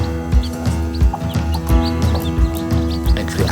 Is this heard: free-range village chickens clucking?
yes